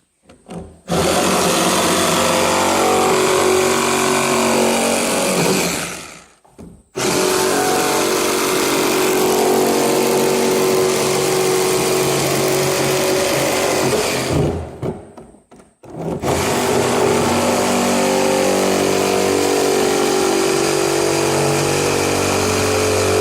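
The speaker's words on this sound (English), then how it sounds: "So I got out my cordless hacksaw. We're going to cut that barrel, square this up." A cordless hacksaw cuts through a barrel for a bear bait station, a loud, close, continuous reciprocating buzz in three long runs broken by two brief pauses.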